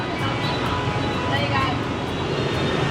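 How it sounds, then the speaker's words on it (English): Loud, dense street traffic in Ho Chi Minh City, a steady roar of many motorbikes close by with engine drone and whine filling the air continuously, no gaps or quiet moments. "I thought the traffic and the noise from the road was loud inside the hotel, but out here on the street, I can't even hear myself talk"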